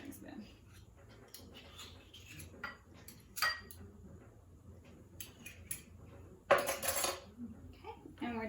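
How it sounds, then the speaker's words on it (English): A metal spoon scrapes and taps against a measuring spoon while scooping out jam, giving light clinks and clatters at close range, with a brief louder clatter near the end and quiet talk now and then. "use our same spoon to scoop it out of the measuring spoon"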